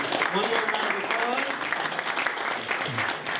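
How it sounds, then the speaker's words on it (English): An audience at an awards banquet applauds in a warm, continuous burst of clapping, with some voices audible through it. "So, one more round of applause."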